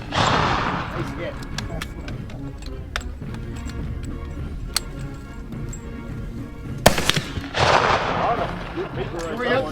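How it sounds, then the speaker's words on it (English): Rifles fire at an outdoor shooting range, with a few sharp gunshots standing out from constant background noise and one loud close report near the end, while people talk throughout. "Independent firing commence."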